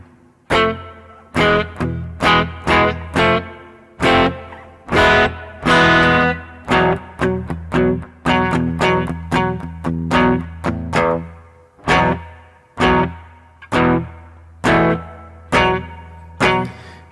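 Guitar chords ring out through a reverb effect with a 300 Hz high pass filter, a series of sharp strummed hits each decaying into a washy tail, loud and alone with no voices.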